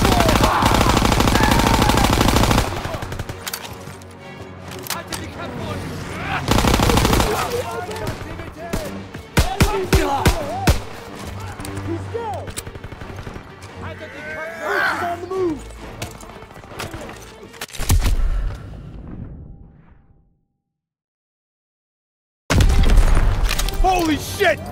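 Call of Duty WWII combat: rapid machine-gun bursts, single gunshots and booming explosions crackle loudly with shouted voices among them, then a sudden silence before the firing bursts back in.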